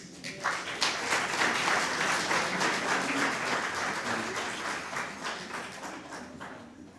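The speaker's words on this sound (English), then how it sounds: "let's give her a round of applause" An audience at a Black History program breaks into applause for a singer, the sustained clapping swelling quickly and then tapering gradually over about seven seconds.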